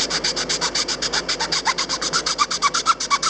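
Steady back-and-forth rasping of a hand file on a wooden dice box, a quick even rhythm of about eight strokes per second, close and fairly loud.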